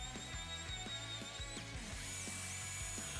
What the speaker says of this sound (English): Once it's all evened out, I give it a good sanding.